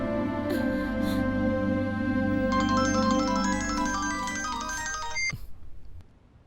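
A mobile phone ringtone for an incoming call plays a repeating melodic tone for about three seconds, then cuts off, over a steady low background drone in a dubbed thriller film scene.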